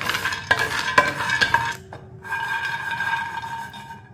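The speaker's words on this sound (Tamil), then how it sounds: "அதே கடாயில் நம்ம வந்து 50 கிராமு பாதாம் போட்டுக்கிடுவோம். இதையும் லைட்டாக வறுத்துக்கிடுவோம்." Fifty grams of almonds dry roasting in a kadai, rattling and scraping sharply as a spoon stirs them against the metal, with brief pauses between clattering strokes.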